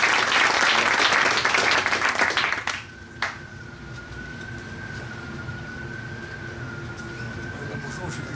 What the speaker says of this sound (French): On l'applaudit aussi.